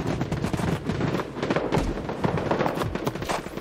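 Automatic gunfire in the Battle Prime mobile shooter game, dense rapid bursts of shots crackling close and loud over busy game effects.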